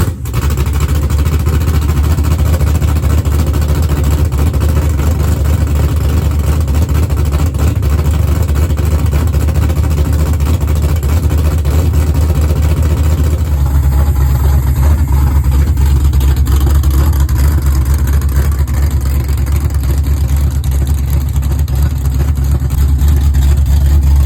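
A 6.0L V8 in a Chevy S10 with open long-tube headers runs loud and close, a steady, rough, throbbing idle that holds without pause, with a slight change in tone partway through.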